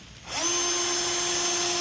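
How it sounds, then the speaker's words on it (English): A power drill bores about a quarter inch into a 3D-printed plastic vent delete plate for a Harley Road Glide inner fairing, spinning up and holding a loud, steady whine close by with no talk. "I'm drilling in about 1/4 inch"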